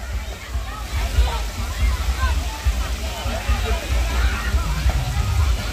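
Water rushes and splashes steadily as people ride down a slide at a newly opened water park during Songkran, a continuous loud wash of water under cheerful crowd chatter and a nearby voice.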